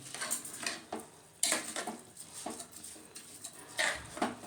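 Spatula scraping and knocking in a pan as rice is stir-fried with vegetables and spices, in irregular close strokes over a faint sizzle.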